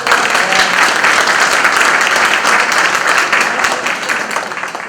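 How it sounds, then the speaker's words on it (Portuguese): Sustained applause from a seminar audience honouring the women, dense and loud throughout, tapering slightly toward the end. "por favor, salva de palmas para as mulheres"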